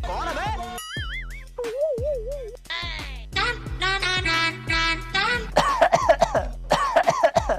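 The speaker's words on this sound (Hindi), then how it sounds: "रात भर खांस रहा था" A man coughs repeatedly in loud, harsh, strained bursts with throat-clearing, irregular and close up, mixed with exaggerated vocal sounds.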